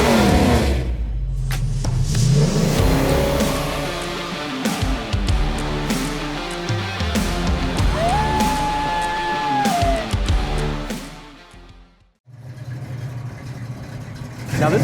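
A 1970 Chevy Nova with four-speed manual revs hard and accelerates, a loud close engine roar rising and falling with gear changes before briefly dropping off and resuming.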